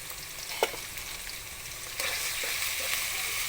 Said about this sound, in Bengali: আমি একটু নেড়ে নেব একটু হালকা ভাজবো